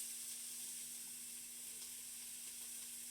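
Onions frying in a pot for bakela alicha give a steady, faint sizzle and hiss that holds evenly throughout, with a constant low hum beneath and no one talking.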